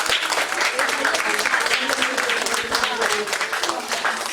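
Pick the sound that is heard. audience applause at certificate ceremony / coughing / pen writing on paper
audience applause at certificate ceremony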